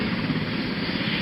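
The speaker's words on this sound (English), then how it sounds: "This is certainly one of those helicopters in the fleet, and the way it's pulling into position now." A fleet helicopter pulls into its parking position at a presidential departure, its engine and rotors making a loud, steady, close drone with no talking over it.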